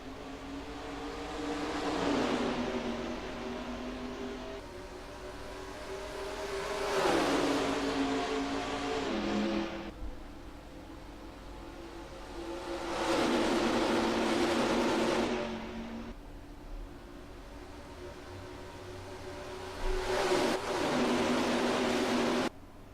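Race cars at the Brickyard (Indianapolis) in NASCAR Racing 2003, engines swelling and fading in repeated pass-bys with steady droning between, no voices.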